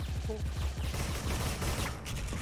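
Dense, continuous gunfire from the Special Force video game, with rapid overlapping shots packed into a steady loud barrage lasting the whole stretch.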